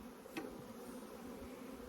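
Honeybees buzz in a soft, steady hum close by at a full hive, a quiet continuous drone with a brief louder flick early on.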